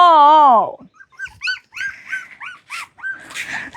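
A mother dog with a new litter whimpers in a long, high whine, followed by a string of short, yelping whimpers and squeaks, close by.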